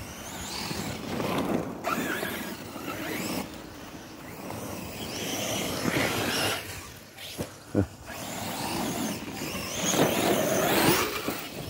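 Arrma Kraton 6S radio-controlled car driving outdoors, its electric motor whining and surging in bursts with gravelly tire scrabble, loud and fairly close with short quieter gaps.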